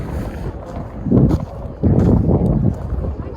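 Strong wind buffets an open show ground during a comic con, a continuous low rumble of gusts striking the microphone that swells louder midway and stays heavy to the end.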